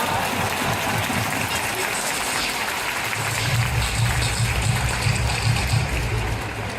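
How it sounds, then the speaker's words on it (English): Crowd noise from a Japanese baseball game fills the stadium, with steady broadband cheering and a rhythmic low pulse that fits cheering-section drums in the second half. "Like you hear the drums and the cheering."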